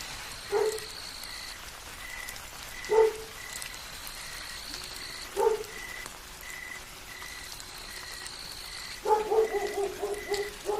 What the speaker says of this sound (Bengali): কোলা ব্যাঙও ডেকে চলেছে।